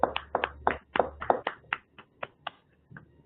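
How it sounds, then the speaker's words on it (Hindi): A group claps to welcome a speaker at a spiritual discourse gathering: about a dozen sharp, close claps in a fairly steady rhythm over three seconds, fading toward the end with no talking. "सभी लोग ताली बजा के उनका स्वागत करेंगे।"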